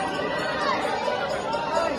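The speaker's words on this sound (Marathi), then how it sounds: "गर्दी गर्दी गर्दी" A dense crowd at Jejuri temple fills the air with overlapping chatter and babble, steady and close, with voices talking throughout.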